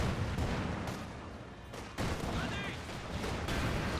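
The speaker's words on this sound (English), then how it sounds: "T-70 firing away, and there's no immediate anti-tank." A T-70 tank fires in Company of Heroes 2 amid a busy battle, with repeated booming shots and gunfire bursts over a rumbling background, and a brief lull in the middle.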